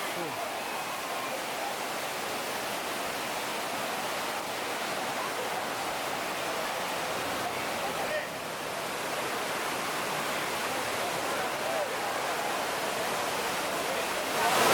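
Waterfall at Dunn's River Falls in Ocho Rios, Jamaica, heard as a steady, loud broadband rush of falling water that fills the whole stretch without a break.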